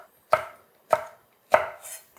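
Three sharp knife chops on a cutting board, evenly spaced and close, as green onion and chili peppers are cut into large chunks for a pollock stew; no talking.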